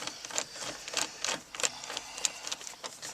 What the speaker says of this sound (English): We're going to remove both these screws.